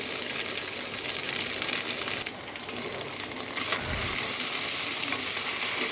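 Coral fish fry with garlic paste in a pan, giving a loud, steady, close sizzle that runs throughout with slight stirring shifts.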